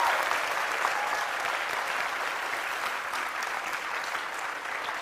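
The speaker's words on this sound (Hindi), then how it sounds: "तालियां जोरों से बजाइए देव साहब के सम्मान में, जोरदार तरीके से" Loud, sustained applause from a quiz-show audience honouring Dev Anand, a dense steady wash of clapping hands that continues unbroken throughout.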